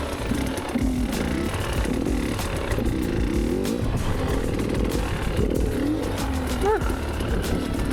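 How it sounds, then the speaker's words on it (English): Dirt bike on an enduro training ride, held in second gear for a slow wheelie, with a steady engine drone that rises and falls across the clip, loud and close under wind noise. "Let's see a slow wheelie with second gear."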